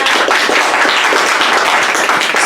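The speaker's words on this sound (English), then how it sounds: "Hey, clap, clap, clap." Applause from a small audience at a community film screening and political talk, steady dense clapping throughout without a break.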